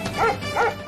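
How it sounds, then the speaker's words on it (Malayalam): A dog barks in pairs of short yips, fairly close and moderately loud, in a domestic scene from a Malayalam family series. "പട്ടിയുടെ കുര കേൾക്കുന്നുണ്ടല്ലോ"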